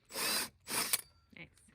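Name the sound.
power drill drilling holes in scrap plywood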